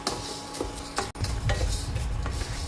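Njavara rice dry-roasting in a pan over a low-medium flame, with continuous scraping and stirring plus a light metallic clatter of the spoon against the pan, close and fairly loud.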